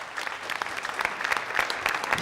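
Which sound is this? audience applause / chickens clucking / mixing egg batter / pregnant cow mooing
audience applause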